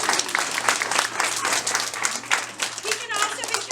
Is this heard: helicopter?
no